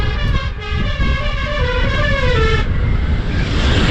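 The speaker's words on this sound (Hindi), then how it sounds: "गजब हॉर्न है इसका, पुरानी यादें ताज़ा होगी।" A long, sustained vehicle horn blares with a bright harmonic tone for a couple of seconds over loud, rumbling engine and road noise on a Ladakh road.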